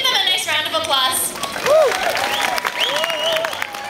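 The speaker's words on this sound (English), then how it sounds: "So can we give them a nice round of applause?" Audience applause at an aquarium dolphin show, a broad steady wash of clapping and crowd noise lasting throughout, with whistle-like tonal calls and some voices mixed in.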